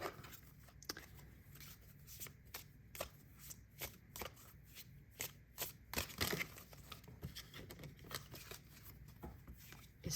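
A round card deck is shuffled by hand in quiet, repeated riffles and soft card slaps, a steady papery rustle with occasional sharper snaps.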